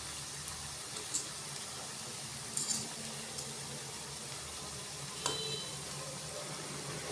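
Banana pitha frying in oil, a steady, soft hiss and gentle bubbling throughout, close and fairly faint, broken by a few light taps and clinks of a utensil against the pan.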